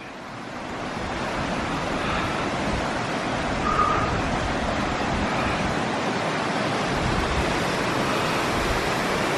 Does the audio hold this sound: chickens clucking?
no